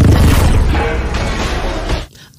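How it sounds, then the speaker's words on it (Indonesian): A loud, booming bomb blast from a Spider-Man film fills the clip, a dense explosion roar that rolls on for about two seconds before cutting off. "Goblin sudah menaruh bom di dalam kotak itu yang kemudian langsung meledak."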